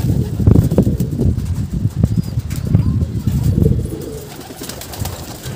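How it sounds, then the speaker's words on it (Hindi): Pigeons on a rooftop breeding loft coo in low throaty pulses close by, with bursts of wing flapping and shuffling, gradually easing off toward the end. "कबूतर देखिए सारे इधर खड़े हैं।"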